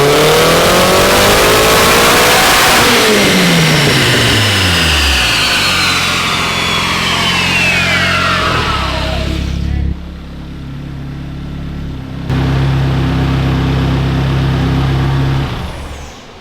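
A loud four-cylinder car engine on a dyno revs hard and climbs in pitch, then drops and holds a steady roar at lower speed before surging again, close and continuous.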